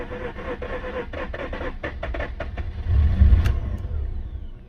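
A project Peugeot car engine left standing for over two years is cranked over, a rhythmic churning starter rhythm followed by a rougher, swelling mechanical rumble as it tries to catch, close and fairly loud.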